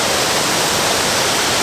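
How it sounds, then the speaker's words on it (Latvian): Small river rapids run over stones where the water flows out of a pond, a steady, close, dense rushing with no breaks and no voices. "šeit iztek upe no tā dīķa, kas ir tajā pusē. Un šeit ir tādas krācītes ar akmeņiem."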